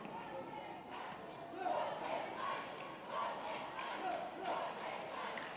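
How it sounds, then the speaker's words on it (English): Football fans at the NSCFL 2024 final shout and cheer from the stands: a distant, continuous crowd roar with repeated rising bursts of yelling and a few dull thumps. "it's the Project 5 fans shouting over there and cheering on their teams"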